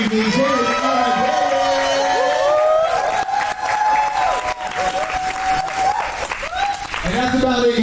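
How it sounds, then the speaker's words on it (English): A crowd at a poetry slam applauds and cheers for the evening's host, steady loud clapping with whoops and shouting voices throughout, easing briefly before rising again. "Please, a round of applause for your amazing host and rep of the evening, Chris."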